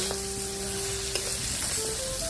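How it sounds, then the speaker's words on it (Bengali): Shukti fish frying in a pan, a steady close sizzle of hot oil with faint stirring and scraping, continuous and even throughout with no talking. "আমি এখানে শুক্তি মাছ ভেজে নিচ্ছি"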